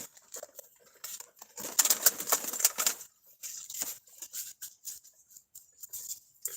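Tarot cards are shuffled during a live reading, a close burst of papery riffling and slapping in the middle, with softer card handling before and after and no voice.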